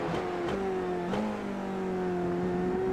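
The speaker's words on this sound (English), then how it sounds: "Good downshift." A Dallara F3 race car braking into the hairpin at Okayama Circuit, its engine a close, loud whine that steps down in pitch through successive downshifts, with short blips between gears.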